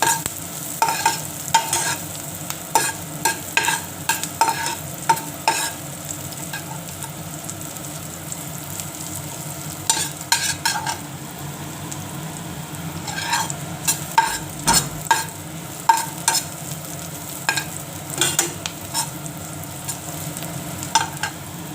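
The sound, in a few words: onions frying and being stirred in a pan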